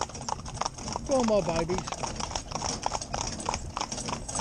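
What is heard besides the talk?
hooves of a four-in-hand team of young ponies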